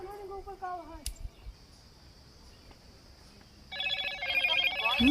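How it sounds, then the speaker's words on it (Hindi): A telephone rings with bright, repeating electronic tones that start partway through and grow louder, after a stretch of faint background and a short voiced sound. "केकर फोन आवता है।"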